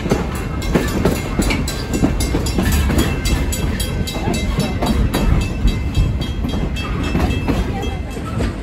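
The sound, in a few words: long train moving on rails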